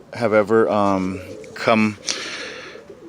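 Birmingham Roller pigeons coo close by in a few short, throaty bursts, with a brief rustle after and then quieter background.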